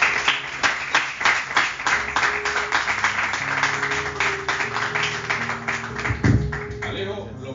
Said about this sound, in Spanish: pido a este público amable un vigoroso aplauso de bienvenida para Alejo Mirnov